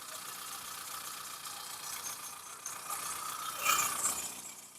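A 2007 Hyundai Santro engine idles with a quiet, steady hum and faint rattle, joined briefly by a louder mechanical whir near the end.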